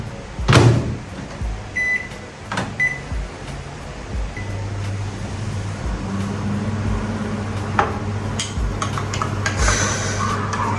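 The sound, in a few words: microwave oven heating bread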